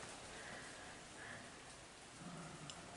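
Light rain sprinkling on a roof under construction, a steady soft hiss of drops that stays even and faint throughout with no voices.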